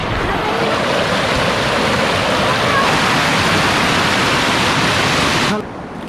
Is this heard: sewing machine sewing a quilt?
no